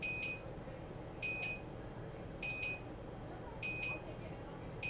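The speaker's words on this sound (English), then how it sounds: "Sorry about the beeping, guys. That is our motion sensor outside," Four evenly spaced electronic beeps from an outdoor motion sensor, each a short high double chirp roughly every 1.2 seconds, over a steady low background hum.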